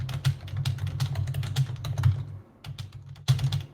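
Rapid typing on a computer keyboard, a steady stream of close, crisp key clicks with a brief pause before a final burst, no voices.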